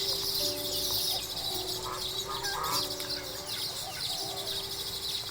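Toulouse geese from a flock of about twelve on a grassy garden farm honk and call repeatedly for several seconds, fairly close, over a steady outdoor background with no one talking.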